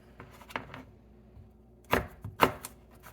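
A knife dices vegetables for green chili enchiladas on a cutting board, a few sharp close chops in two short bursts separated by a quiet pause.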